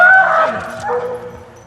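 A police dog gives a loud close yelp that trails off into a high, whining whimper, in a tense police operation at a building.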